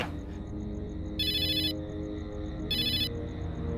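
A phone rings in two short electronic bursts with a pause between, over a steady low background hum.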